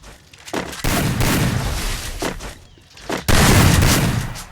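Gunfire from a mobile shooter game, fired while aiming for headshots, comes as two loud, close bursts of rapid shots. A quieter gap separates the bursts, and no one speaks.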